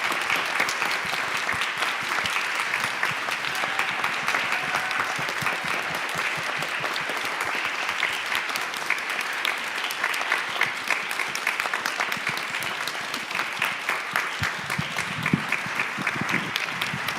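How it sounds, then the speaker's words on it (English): A large audience at an evening spring jazz concert in a church hall breaks into loud, sustained applause, a dense unbroken wash of many clapping hands that holds steady for well over fifteen seconds, with scattered crowd noise underneath. "One more round of applause."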